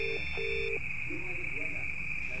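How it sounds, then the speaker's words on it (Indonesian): A mobile phone rings somewhere nearby in a village, giving short electronic beeping tones over a steady high tone, with faint background voices. "Gua bisa denger ringtone-nya."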